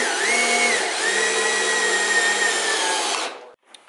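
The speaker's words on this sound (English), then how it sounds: "now what I'm going to do is just do some 2-inch screws on the inside, kind of at an angle" A power drill drives a 2-inch screw at an angle through a wooden beam into a side wall, a loud close whine that holds steady for about three seconds with a brief pitch change, then stops.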